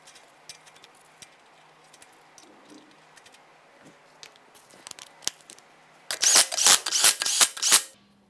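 A torque wrench tightens 21mm lug nuts to 76 foot-pounds on a 2014-2019 Toyota Corolla wheel: scattered faint ticks, then a loud close burst of rapid clicking in the final two seconds, with no talking.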